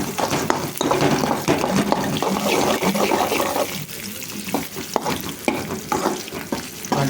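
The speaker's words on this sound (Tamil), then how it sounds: "ஒரு 5 நிமிஷம் ஒரு வதக்கணும்." Pepper rice ingredients sauté in a pan on the stove, a close, continuous sizzle broken by scraping and clanking stirring strokes, with no talking over it.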